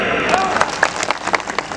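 Crowd clapping at an outdoor political rally, dense and steady throughout with some vocal noise mixed in.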